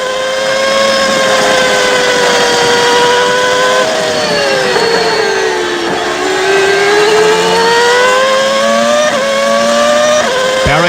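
Formula 1 cars race at the 1994 Spanish Grand Prix in Barcelona, a red and white McLaren chasing a Jordan Hart, their engines screaming loud and close with rising and falling pitch through gear changes and corners.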